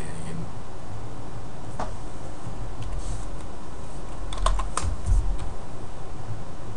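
Keys pressed one at a time on a computer keyboard during a menu shortcut demonstration, sparse close clicks over a steady background hiss with no talking.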